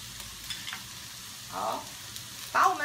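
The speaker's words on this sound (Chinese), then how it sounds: "等它在煎的时候呢" Food fries in a pan as the base for a sukiyaki, a soft, even sizzle close by with a couple of louder bursts of spitting oil toward the middle and end.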